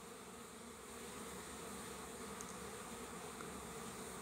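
Honeybees flying at the hive during orientation flights make a dense, continuous buzzing swarm drone, steady and close throughout with no voices.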